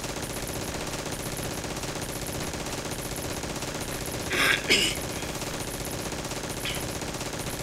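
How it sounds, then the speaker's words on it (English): A mounted turret machine gun in Red Faction fires at barrels during a training mission. It sounds as steady, rapid mechanical rattling with a couple of brief louder bursts midway, and someone briefly clears their throat. "Pretend using the barrels are guards and take them out with this turret."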